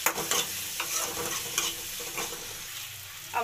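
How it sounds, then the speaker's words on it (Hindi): Green chilies fry with tomato and onion in a pan, giving a steady close sizzle under repeated spoon stirs and scrapes at an uneven pace, with no voices. "अब हरी मिर्च भूजते हैं"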